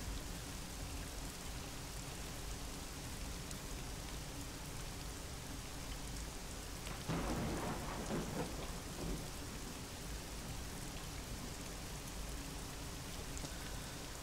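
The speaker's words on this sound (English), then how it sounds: "This rain is playing tricks on my ears." Steady heavy rain hisses throughout in a video game, with a rolling rumble of thunder swelling midway before fading back into the downpour.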